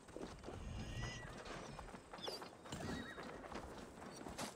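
Horse neighing and hooves clip-clopping in the video game Assassin's Creed Valhalla, a steady close gallop with whinnies over busy game ambience and a faint voice.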